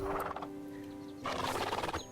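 A horse in the Star Stable Online video game gives two short whinnies, a brief one at the start and a fuller, louder neigh after a pause, over a faint steady game background.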